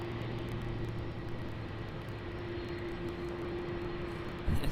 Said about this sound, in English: we do have the Jetstar A320-200 as JQ753 heading off to Launceston.